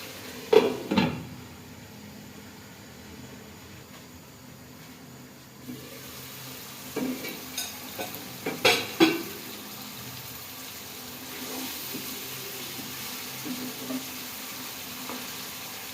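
Bangladeshi fish curry sautés in a pan with a steady, low sizzling hiss, punctuated by a few sharper clinks and scrapes of cookware near the start and middle.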